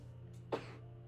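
One short, muffled sneeze sounds about halfway through, brief and fairly quiet against a steady low indoor hum, with nothing else around it.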